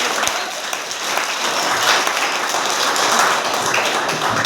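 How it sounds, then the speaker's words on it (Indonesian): Congregation applause during a church sermon, a steady wash of many hands clapping at moderate level for several seconds without talk. "Tepuk tangan buat Tuhan Yesus."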